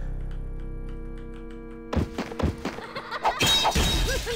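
Mirrors shot and shattered in the DOS game Realms of the Haunting: a quiet hum, then a run of sharp impacts and breaking-glass crashes that build into a denser, louder burst.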